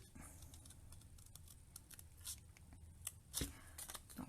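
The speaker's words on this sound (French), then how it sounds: "je vais aller couper tout droit comme ça ici" Scissors slice through a paper garment pattern for a men's shirt in straight lines, giving quiet, crisp snips and soft rustling at close range. The cuts come in short bursts, with a sharper snip near the middle.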